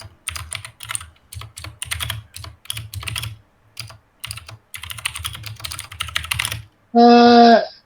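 Rapid, furious typing on a computer keyboard, dense bursts of clicks separated by short pauses, close and loud, ending in a brief harmonic tone.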